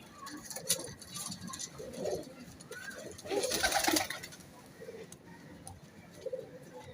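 Pigeons in a loft give soft low coos and rustles, with a brief flurry of wing patter midway, while people talk faintly in the background.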